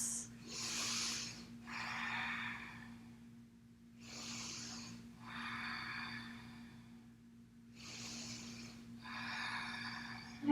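Slow, deep breaths during a yoga flow, three long inhale-exhale cycles, each a soft airy rush through the nose and mouth, close and steady over a low constant hum.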